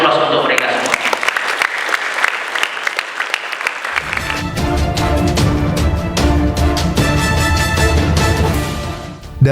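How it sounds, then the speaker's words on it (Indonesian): Loud sustained applause from an audience at a pesantren graduation ceremony for tahfidz students, swelling into dense clapping with music beneath, continuous and close throughout. "Kasih aplaus untuk mereka semua."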